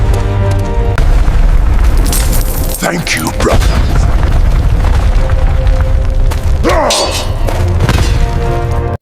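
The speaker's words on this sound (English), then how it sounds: "Let's go now before the cave collapses!" Deep, continuous cinematic rumble of a collapsing cave in an epic African folktale drama, loud and sustained with heavy thuds and two sharp swooshing bursts, while a voice speaks briefly over it.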